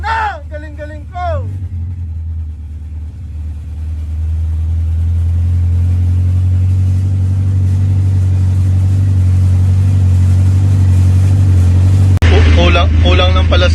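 A repaired Pulsar motorcycle engine settles into a steady, close idle that slowly grows louder and holds a constant drone, with someone speaking just before it starts and again at the end.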